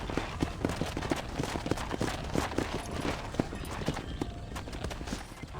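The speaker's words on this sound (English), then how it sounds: "Hit your horse and wait for me by the stable." Rapid clip-clop of horse hooves galloping in Red Dead Redemption, steady repeated thumps running throughout at close range with no talk over them.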